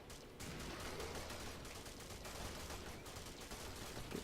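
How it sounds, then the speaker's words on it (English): Sustained rapid gunfire from a handheld minigun, the Sedna, in the Warframe shooter during a Rhino/Ignis solo survival mission, a dense continuous roar of shots with no pauses across the whole span. "I bring you the Sedna. The handheld minigun."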